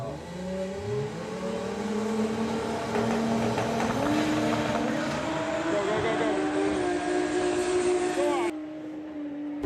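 A VW drag racing car with a 2.8 litre engine mounted in the rear makes a loud run down the Santa Pod strip, its engine roaring and pitching up through the gears before cutting off abruptly near the end.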